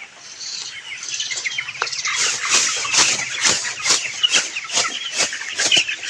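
Chickens cluck and squawk in a rapid, repeated series, loud and close, over a quiet background.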